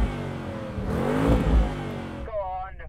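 A Porsche Cayenne Turbo S with a V8 engine revs up, its pitch climbing and swelling to a peak midway before cutting off abruptly into a quieter tail, with faint background chatter.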